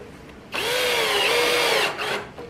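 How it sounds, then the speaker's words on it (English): Power drill driving a screw into a wooden board with a Kreg jig R3 and a modified clamp: one sustained whine of about one and a half seconds that stops, then a short second burst, close and alone. "I'm going to screw it right in here, right on the bottom."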